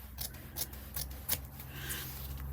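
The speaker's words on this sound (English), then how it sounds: "first thing you need to do is to cut out your rectangle. Now this can be done using your scissors." Scissors snip through fabric while a rectangle is cut out, several short crisp cuts in an uneven rhythm, close and clear.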